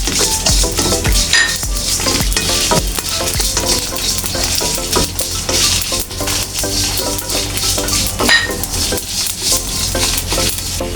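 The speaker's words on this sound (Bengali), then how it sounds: "আমি এখন 5 ফোড়ন ভেজে নেব।" Panch phoron spices crackle in hot oil in a pan for a sweet-sour chalta pickle, a loud close sizzle full of sharp pops and spattering, with metallic clinks of a spoon against the pan and no talking.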